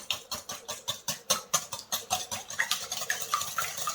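A spoon stirs a sauce of vegetable cream and tomato concentrate for a Dallas sauce, making a steady run of quick, even scraping strokes, about five per second, close up with no voices.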